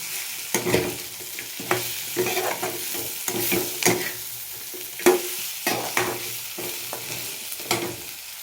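Potatoes and meat sizzling together in a pan while stirred, with repeated sharp scrapes and knocks of a utensil at an uneven rhythm over a constant frying hiss.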